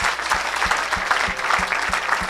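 Church congregation applauding steadily and loudly in unison, with rhythmic low thumps like a drum or foot stomps beating under the dense clapping.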